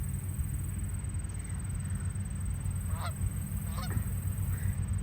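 A few distant goose honks ring out over steady outdoor background noise and a high constant hiss.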